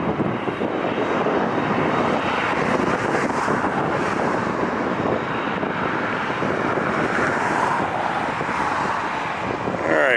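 Heavy jet aircraft taking off at LAX airport, a loud broadband engine roar that holds steady for the whole stretch with wind buffeting the microphone.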